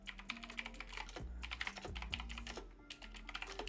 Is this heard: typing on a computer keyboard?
yes